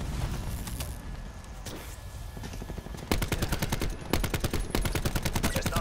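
Gunfire in Call of Duty 4 on the Slum map, shotgun blasts mixed with rapid bursts of automatic fire, loud and dense, coming in quick rhythmic volleys that intensify partway through, with no talk.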